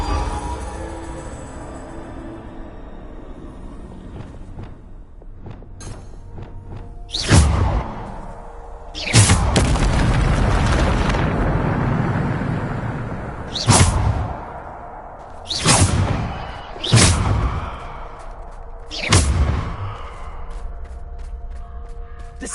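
Descendo spell cast in Hogwarts Legacy: a series of loud whooshing magical bursts with heavy low thumps, about half a dozen spaced through a quieter game ambience.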